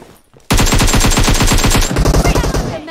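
Loud, close automatic gunfire in PUBG Mobile deathmatch, starting abruptly after a brief quiet and running as a fast steady stream of shots, then breaking into shorter choppy bursts near the end.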